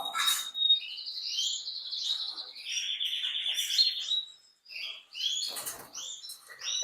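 A snowy (nevado) canary chirps and trills up close in rapid bright bursts, with short pauses and a faint rustle of movement in between.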